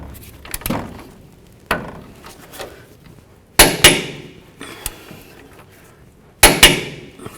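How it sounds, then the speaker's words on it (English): A torque wrench on a 19mm socket tightens a front upper control arm bolt to 118 foot-pounds on a 2003-2009 Toyota 4Runner, giving a few sharp, close metallic clicks and knocks separated by short pauses. "We're going to torque this down to 118 foot-pounds."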